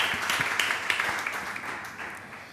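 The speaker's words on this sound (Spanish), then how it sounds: "Les pediría un aplauso para los ponentes" Audience applause for the panel speakers at a plastics value-chain conference session on commercial packaging, a steady, moderately distant patter of many hands that thins slightly toward the end.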